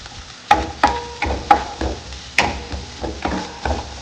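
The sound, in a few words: stirring chapati noodles in a hot pan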